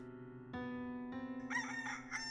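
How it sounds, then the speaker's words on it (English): A rooster gives a single full crow, fairly close and clear, over a steady sustained tone in the background. "For good luck, a rooster was carried in the arms of none other than Emily Roebling"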